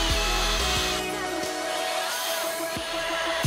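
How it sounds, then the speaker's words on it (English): Small 2 mm screws being driven into IKEA slider parts by a power driver, a continuous loud whirring motor whine with pitch dips as the screw bites, close up. "I only use 2 mm screws, so I won't put too much pressure on the sliders when I try to screw them in."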